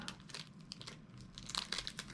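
A crinkly plastic snack packet of crickets is tugged at and torn, giving close, quiet bursts of crackling and crumpling in irregular clusters, with a sharper rustle toward the end.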